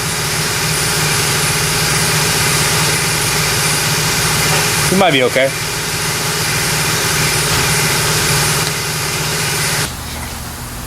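A 1979 AMC Spirit AMX engine idles steadily and loudly nearby, a constant low drone with a brief clatter midway, while a person speaks briefly over it.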